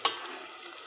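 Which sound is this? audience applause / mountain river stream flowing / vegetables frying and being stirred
vegetables frying and being stirred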